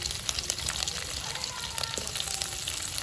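Onions and fennel seeds sizzle steadily in hot coconut oil in a pan, a loud, dense frying hiss with scattered crackles and pops that carries on without a break.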